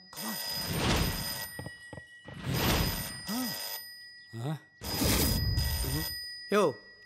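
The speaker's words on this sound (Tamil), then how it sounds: "ஃபோன் அடியா." A telephone rings in a Tamil comedy film scene, its steady electronic ring running under lively dialogue and voices talking over it, with brief pauses between bursts.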